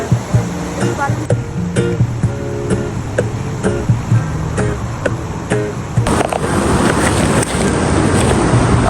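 Strong river current rushes steadily and loudly close by, a dense continuous wash that grows fuller toward the end, with brief clicks and a voice speaking over it.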